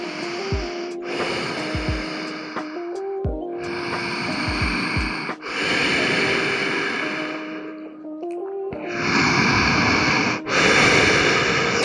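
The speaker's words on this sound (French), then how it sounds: "Quelques respirations, on est ensemble." Deep, slow breaths are drawn in and pushed out in long hissing waves, several in a row, close and fairly loud during a yoga twist pose, with no talking.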